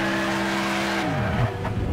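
A car in the Next Car Game video game, its engine revving steadily and loudly, then dropping in pitch into a rougher, scraping rush of noise as it crashes; no talk.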